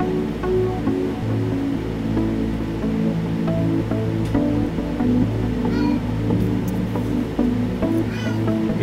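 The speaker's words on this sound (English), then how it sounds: "my kitty in the background." A house cat meows in the background of an air-conditioned room while it wants to go outside, a few short cries rising above a steady low hum, with no one speaking over them.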